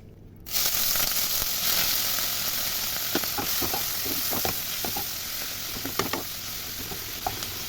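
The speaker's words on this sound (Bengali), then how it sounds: "মাছগুলো একটু হালকা ভেজে নেব।" Shrimp sizzling steadily in hot oil with turmeric in a wok, a continuous close fry broken by scattered pops and crackles throughout.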